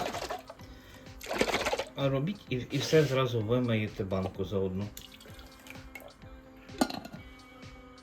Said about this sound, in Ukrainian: Зараз я сюди налию води.